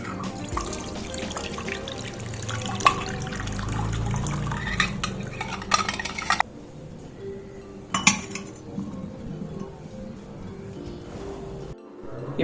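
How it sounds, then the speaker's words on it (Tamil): Water drains from boiled cauliflower in a home kitchen with soft splashing and drips, metal utensils clinking against pots, and a few sharp clatters. "காலிஃப்ளவரை ஃபில்டர் பண்ணிக்கோங்க."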